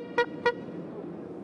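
An old car horn dating from 1899 gives two short, bright toots in quick succession, each one clear and honking, over a quiet background hum.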